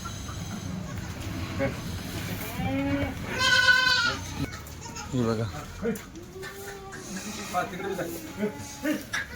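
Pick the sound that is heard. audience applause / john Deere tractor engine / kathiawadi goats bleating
kathiawadi goats bleating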